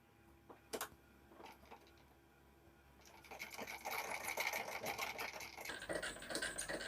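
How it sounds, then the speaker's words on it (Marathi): Sewing machine stitching a blouse, starting with a few faint isolated clicks before a steady, fairly quiet mechanical run sets in and continues to the end, with no talking. "तर आपल्याला आता इथून शिलाई देऊन घ्यायची आहे आणि सुरुवातीला एक लॉक करायचा आहे"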